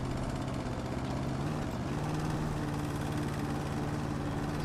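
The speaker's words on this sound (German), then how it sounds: "Ich weiß schon nicht mal mehr, wie man den Rasenmäher bedient." Lawn mower droning steadily in the house renovation game House Flipper, a loud, continuous buzzing engine hum with a constant pitch and no voices.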